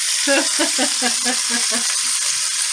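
Homegrown sausage cooks slowly in a pan over medium-low heat, a constant close sizzle running under a regular series of soft low pulses that fade toward the end.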